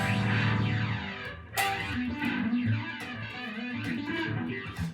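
Electric guitar through a Big Muff fuzz with a flanger switched on, giving thick, saturated chords with a sweeping, swirling jet-like whoosh; loud and dense, with a brief break mid-phrase before the fuzzed chords resume.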